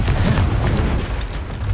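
A Confringo blasting spell cast in Hogwarts Legacy, a deep booming blast with rumbling low-end bursts that fill the short moment, loud and close.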